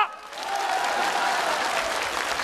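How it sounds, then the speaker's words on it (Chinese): An audience at a comedy sketch performance breaks into loud, dense applause that starts sharply and holds steady throughout, with no voices rising above the clapping. "同意老王头对店的，请鼓掌。"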